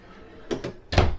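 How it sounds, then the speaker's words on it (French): A large bedroom drawer in a 2022 Solitude S-Class 2930RL RV slides open and shuts, giving two quick rattling slides followed by a heavier, louder thud as it closes, heard up close. "Puis on va avoir 2 grands tiroirs de chaque côté également."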